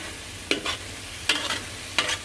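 Onions stick and fry in a pot over a burner turned all the way up while a spoon stirs and scrapes the sides, three distinct scraping strokes spaced evenly apart over a faint steady sizzle.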